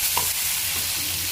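Fried onion with ginger, garlic and green chili paste is stirred in a hot pan, giving a close, steady sizzle with scraping stir sounds and no voices.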